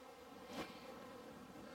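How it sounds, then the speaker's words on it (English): Honeybees buzzing around sugar syrup drained from a bucket feeder on a community feeder stand, a faint continuous hum with one brief louder swell as a bee passes close. "I'll pan down and show you where the bees are getting at the sugar syrup that has drained."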